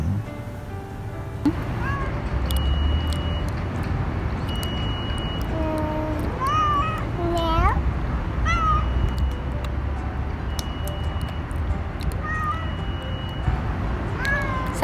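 A cat meows repeatedly while a baby plays with it, several short, rising and falling calls over a steady background hum, with a voice heard intermittently.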